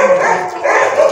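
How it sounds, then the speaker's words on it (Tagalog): A dog barks close by, loudly, in a brief burst of rough, yapping barks that fill the whole moment. "ingay ng aso"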